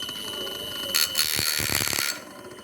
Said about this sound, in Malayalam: ഇതാണ് ബസറിൻ്റെ ഒച്ച.